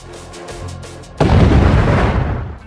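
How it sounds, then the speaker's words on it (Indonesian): A thrown grenade goes off with a sudden loud boom, preceded by quieter rumbling, then a broad roaring blast that slowly fades over the following seconds. "Tetapi tak disangka Ji-an membawa dua buah granat yang langsung ia lemparkan ke arah Kuma hingga boom, ledakan pun terjadi"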